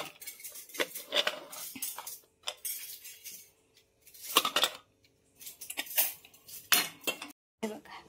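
Dishes, pots and cutlery being washed in a home kitchen after cooking kheer, with intermittent clinks and clatters of metal utensils in irregular bursts separated by brief pauses.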